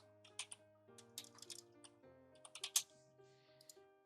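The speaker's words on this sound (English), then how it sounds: "I'm going to type my channel name" Quick keystrokes on a computer keyboard while text is typed into Illustrator: a run of close, crisp clicks in irregular bursts over soft background music.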